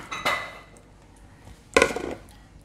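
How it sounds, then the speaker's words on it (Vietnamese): White beans tipped into an Instant Pot of glutinous rice give two short bursts of clattering against the metal pot, a brief knock first and a louder, longer rattle about a second and a half later, with quiet between. "Bây giờ mình bỏ vào đây đậu nha."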